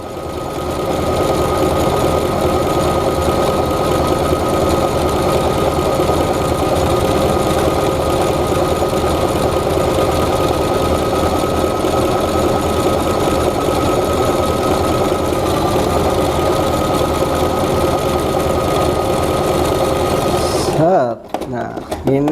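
Singer Start 1306 sewing machine stitching with a double needle, a steady, loud, fast mechanical whir and rapid needle chatter running continuously for about twenty seconds before stopping abruptly near the end.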